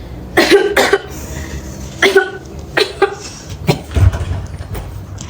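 A person coughs in several harsh, separate bursts, close by, with short pauses between the fits, during an indoor mafia party game in a theater.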